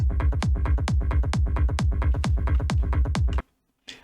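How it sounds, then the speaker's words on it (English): Trance kick and bass group from a remix plays alone: a punchy kick thumps on a steady quick pulse with rolling bass notes between hits, loud and continuous, then cuts to near silence before a brief restart. "First of all, the kick and bass group as always"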